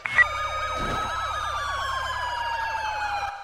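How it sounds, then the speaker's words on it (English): A video game police siren wails nearby, sweeping up and down in rapid repeated cycles over a steady low engine hum. "Shut sirens off."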